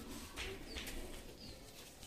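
Black Malwai pigeons, a Punjabi breed, coo softly with faint low murmuring calls and a few rustles in quiet surroundings.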